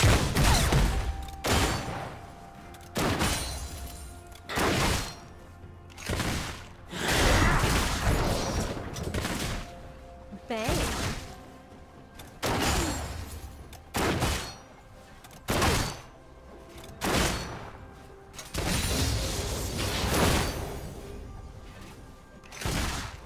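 Miss Fortune's guns fire in League of Legends in repeated loud volleys of rapid shots, bursts separated by brief lulls over a steady game backdrop.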